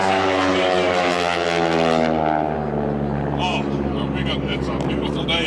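A propeller airplane at the 2010 Eglin AFB Airshow makes a low photo pass across the crowd, its droning engine steady and loud with a rising-then-falling pitch, with a voice talking over it.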